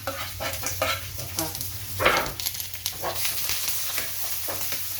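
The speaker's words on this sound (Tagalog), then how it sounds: "Nilagyan natin guys ang ating sibuyas, pati sili" Onion and chili sauté in a pan for spicy chicken adobo, with a close, crackling sizzle and repeated scraping strokes as the mixture is stirred.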